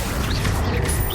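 A spell being cast in Hogwarts Legacy, a brief magical whoosh with a swishing, crackling texture over a dense, steady rumble of game effects, heard alone at moderate loudness.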